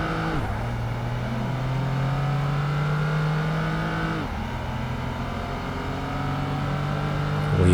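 Golf R32 racing car in the racing video game PGR2, a steady engine drone rising through the gears with two clear upshifts, alone and with no talk.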